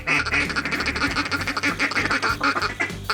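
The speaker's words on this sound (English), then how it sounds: "these ducks are coming in so good right now" Mallard ducks quack in rapid, loud, overlapping bursts close by during a youth waterfowl hunt, with a nearly continuous chatter of calls throughout.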